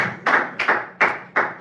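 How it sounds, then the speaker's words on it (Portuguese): Rhythmic hand clapping from a worship congregation, four distinct claps spaced evenly at an unhurried pace, close and fairly loud with brief quiet gaps between them. "Vamos adorar o Senhor com as palmas nesta noite?"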